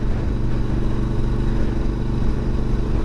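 A Suzuki V-Strom 650 motorcycle engine idling up close, a loud steady low throbbing rumble with even rapid pulsing and no speech.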